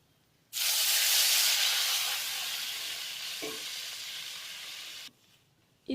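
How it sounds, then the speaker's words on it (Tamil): Tamarind water hits a hot pan while cooking pepper rasam, bursting into a loud, close, steady sizzle and hiss that lasts several seconds before cutting off, followed by a faint clink. "இப்போ நம்ம வந்து புளிக்கரைசல் வந்து ஆட் பண்ணிடலாம்"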